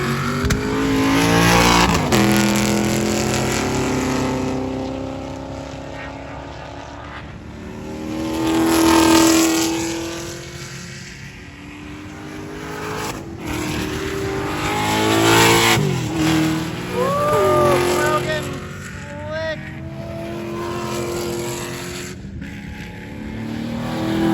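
A C3 Corvette and other race cars run on a track day circuit, engines revving and accelerating loudly with passing swells, brief tire squeal as one locks up its brakes.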